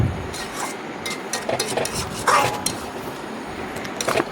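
Mango pieces stirred in a frying pan over a medium gas flame, giving soft intermittent scraping and clinking strokes with a faint sizzle, close by and without speech.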